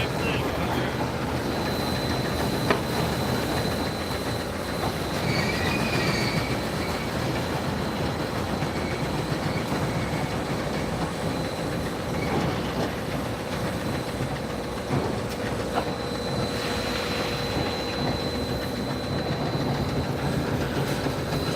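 Cab ride aboard the Southern #630 steam locomotive, a continuous loud rumble of rolling rail wheels with rhythmic clickety-clack and occasional high whistle-like squeals and hisses, no talking.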